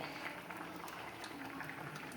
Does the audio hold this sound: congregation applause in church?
no